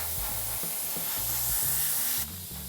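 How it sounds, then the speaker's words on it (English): A Sparmax MAX-4 0.4 mm entry-level airbrush sprays paint with a continuous close airy hiss that cuts off sharply near the end, while low tonal hum patterns sit underneath. "Bear in mind that this is a entry-level airbrush, Sprays very nicely."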